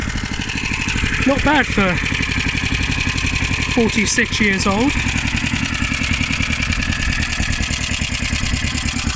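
A 1976 Hayterette rotary lawnmower's small engine idles with a steady, even putter throughout, close and fairly loud, while someone talks over it briefly.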